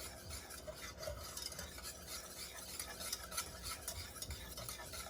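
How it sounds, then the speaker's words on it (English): A spoon stirs a tablespoon of butter and a teaspoon of vanilla into a warm dessert filling, giving faint, continuous scraping and soft swishing close by with no talking. "we're gonna add a tablespoon of butter and a teaspoon of vanilla, good quality vanilla. And we're going to stir it."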